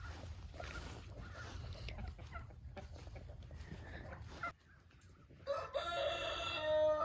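Chickens cluck quietly on a cold rural homestead under a low rumbling background, then a rooster crows clearly near the end, a drawn-out call that stands out nearby.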